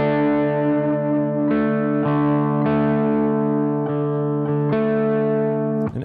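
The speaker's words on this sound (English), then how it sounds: "It just sort of creates this like modulated reverb sound." Electric guitar chords through a modulated reverb pedal ring out with a shimmering, wavering reverb wash, struck roughly every second and sustaining into one another, loud and close.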